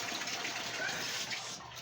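Water poured from a bucket into a toilet bowl, a steady gushing splash lasting under two seconds, fairly loud and close, easing off at the end.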